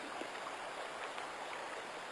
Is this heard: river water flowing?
yes